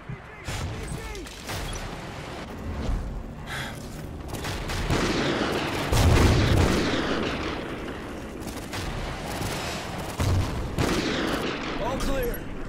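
Remote sniper rifle fire from the Call of Duty: Ghosts campaign, clearing RPG troops: repeated loud shots and booms amid battle noise, with voices talking over the action.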